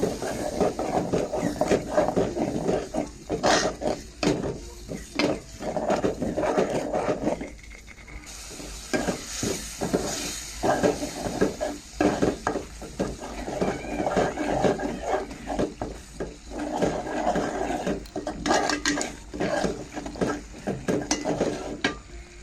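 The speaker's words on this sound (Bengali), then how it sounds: "সবগুলো 2-3 মিনিটের মতো কষিয়ে নিব" Spice paste and chicken skin are stirred and fried in a pan for a curry, with a soft steady sizzle under repeated scraping stirs, close and fairly quiet.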